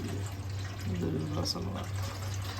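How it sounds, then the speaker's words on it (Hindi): Bottled mineral water poured into a cooking pot for Maggi noodles gives a steady, close splashing rush that runs the whole time, with a voice talking over it. "चलो पानी भी डल गया अपना"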